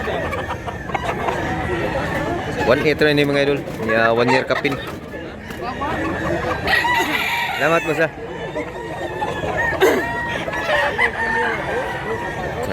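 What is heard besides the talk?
chickens and roosters clucking and crowing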